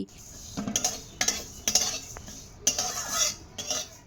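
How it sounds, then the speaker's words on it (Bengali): Whole spices and a dried red chilli dry-roasted in a kadai (wok) on a gas burner for garlic pickle, a spatula scraping and tossing them in short, close bursts separated by brief pauses. "শুকনো কড়াইয়ের মধ্যে ভেজে নেব তার জন্য গ্যাসের ওপর একটা কড়াই বসিয়ে দিয়েছি আর সবগুলো মশলা একসাথে দিয়ে দিচ্ছি"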